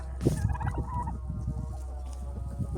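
Turkeys gobble outdoors on a small farm in January, rapid bubbling gobbles rising near the start and continuing at moderate volume over a steady low background hum.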